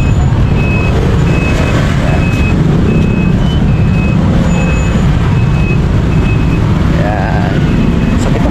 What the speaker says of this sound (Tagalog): Grabe pagka-traffic.